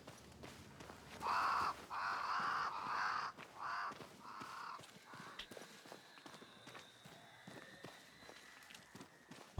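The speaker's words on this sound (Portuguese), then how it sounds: "Já repararam que anda sempre um corvo atrás de nós?" A crow caws loudly in several harsh bursts during the first half, close and clear, in the game Banishers: Ghosts of New Eden. Footsteps crunch steadily throughout and continue after the calls stop.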